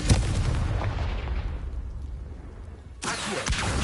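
Confringo spell explosions in Hogwarts Legacy on PS5: a loud, close blast at the start with a long fading rumble, then a second sharp burst near the three-second mark.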